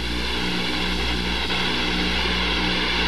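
Jet engines of an F/A-18C hum loudly and steadily through a night approach to the carrier USS Constellation, a continuous dense roar with no break and no voices.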